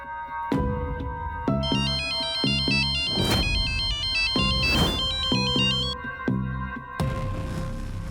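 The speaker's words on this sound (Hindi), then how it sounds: "बार बार फोन क्यों किए जा रहे हैं?" A melodic phone ringtone plays loudly in a drama scene, repeating its bright tune in bursts across the whole stretch with brief gaps between phrases, and no one speaks over it.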